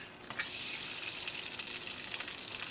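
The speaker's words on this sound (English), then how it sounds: "once your frying pan is nice and hot, you're going to crack in one egg" Close, steady sizzling and crackling of an egg frying in hot oil in a copper frying pan on an induction cooktop, with faint pops scattered through the hiss.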